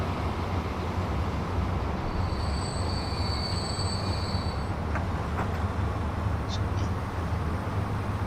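Freight train hauling wood in the Transport Fever 2 rail simulation game, a steady low rumble of rolling wagons with faint high wheel squeals, continuous and fairly quiet, no talking.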